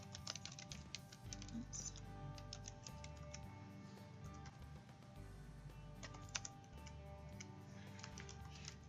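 Fingers tap out a credit card number on a computer keyboard in quick, uneven bursts of light clicks, soft and close in a quiet room with no talking.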